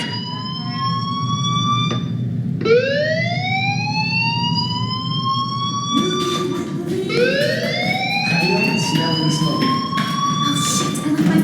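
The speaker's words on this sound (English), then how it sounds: "do you hear that fire alarm?" A fire alarm in the video game Life Is Strange wails loudly and continuously, its rising siren tones repeating in long sweeps over a constant droning hum.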